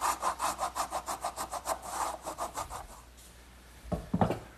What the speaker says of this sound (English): now a little bit of work with a wood rasp